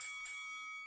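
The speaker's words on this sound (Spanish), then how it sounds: "Ahí está, sonó la campana." A fight bell rings during a UFC show, a single struck ring with bright, sustained tones that slowly fade, heard fairly faintly and alone.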